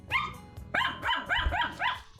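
A dog gives a short burst of sharp, high yipping barks, one then four more in quick succession, fairly close, with a low background rumble.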